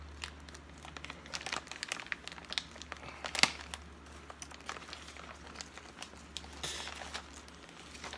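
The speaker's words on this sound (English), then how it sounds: "So let's open up this plastic piece and see what all we got in here." Plastic packaging holding truck parts and fittings is opened, giving close, continuous crinkling and crumpling with a few sharper rustles and one brief crisp snap partway through, with no speech.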